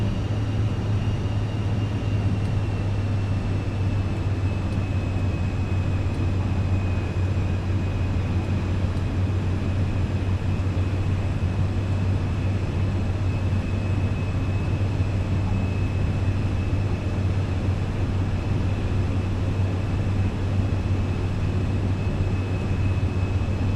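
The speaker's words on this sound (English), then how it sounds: "We're gonna go ahead and start taxiing our way out here to the runway." Steady, continuous engine hum and whine of an airliner taxiing to the runway in Microsoft Flight Simulator 2024, an even drone with a faint high tone, no talking.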